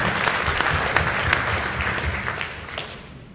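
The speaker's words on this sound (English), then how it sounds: "Let's give a big round of applause" Conference attendees break into applause, a dense wash of many hands clapping that holds steady before tapering off at the end.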